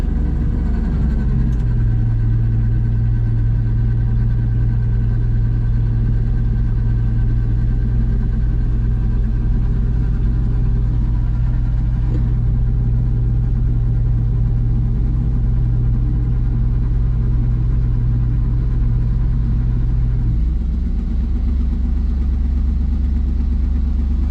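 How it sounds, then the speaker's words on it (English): A grain truck engine running steadily with the PTO engaged to raise the hoist and bed, a loud constant rumble with a sustained droning whine that cuts off near the end, settling back into idle. "Pull the hoist out. And we're going to raise the bed."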